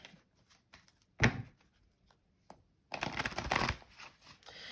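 Oracle cards shuffled before a three-card draw: a sharp riffle burst, a few soft taps, then a longer, louder stretch of dense shuffling close by, no voices.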